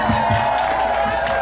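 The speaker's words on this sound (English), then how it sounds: "Let's give him a round of applause, ladies and gentlemen." An audience at a Spring Phoenix Rising performance gives a round of applause, with close, steady clapping and crowd noise and a few lower thumps early on.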